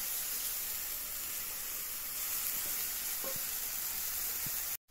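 Chicken kosha with tomato cooks in a pan, a soft, steady hiss of frying with a couple of faint scrapes from stirring before it cuts off abruptly near the end.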